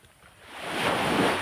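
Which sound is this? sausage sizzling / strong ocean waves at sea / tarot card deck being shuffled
strong ocean waves at sea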